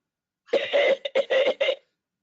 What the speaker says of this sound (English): I got a bit of a cough.